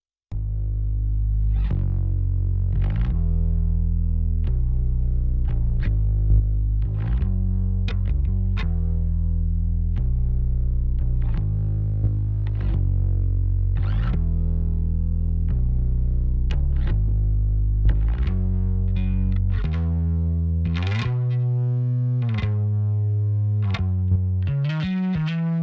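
Electric bass line compressed through a NEOLD U2A opto compressor, hardware unit and plugin version, playing steady sustained notes with a thick, slightly driven tone that runs continuously throughout, with no talking.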